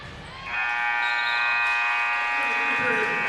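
A loud, sustained electronic buzzer blares for several seconds at the end of a quarter in a girls' high school basketball game, with crowd noise in the background.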